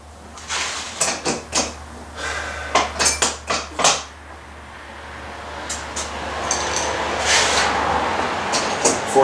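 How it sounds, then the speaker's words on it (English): Metal wrench clanking against an exhaust manifold bolt on a Jeep 4.0 engine, a run of sharp close clinks in quick uneven bursts, then quieter scattered taps over a rising background hum. "Let me try a different size wrench here."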